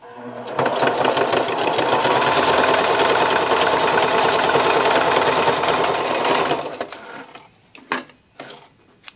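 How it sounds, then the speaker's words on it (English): A sewing machine runs a straight stitch over a zigzag seam in one steady, fast mechanical whir for about six seconds, then stops, followed by a few faint handling clicks. "I'm going to take and go over that zigzag that I just did with a straight stitch"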